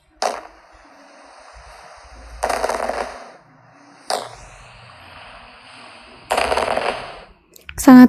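Several booming bursts of fireworks with crackling tails go off at intervals in the video game Harvest Town, ending in a sharp bright pop, with soft background music between them.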